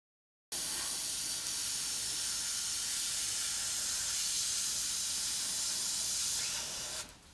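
An airbrush sprays cleaning fluid out in one steady, loud hiss that runs unbroken for about six and a half seconds, then cuts off abruptly near the end.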